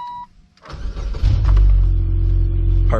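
A 21-year-old car with 275,000 miles, cranking briefly after a short click and then catching into a loud, steady idle, heard up close with no talking.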